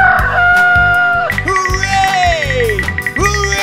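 Loud cartoon-style barnyard sounds over a bouncy musical backing: a chicken clucks in short bursts, then a rooster crows with a long rising and falling call.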